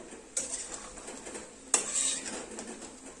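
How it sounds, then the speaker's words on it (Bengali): A spoon scrapes and stirs spices with black pepper powder in a kadhai pan while cooking bhuna chicken, two sharp metallic clinks standing out over soft scraping and a light sizzle. "নেড়ে চেড়ে নেব"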